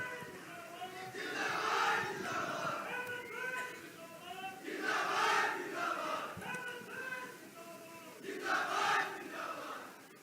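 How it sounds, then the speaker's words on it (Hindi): A large crowd roars and cheers in welcome for Jharkhand Chief Minister Hemant Soren at a public event marking Birsa Munda's 150th birth anniversary, in three loud swelling waves with harmonic, shouting voices throughout. "आज के अवसर पर आपके उद्गार अभिव्यक्ति हेतु जोरदार तालियों से स्वागत अभिनंदन"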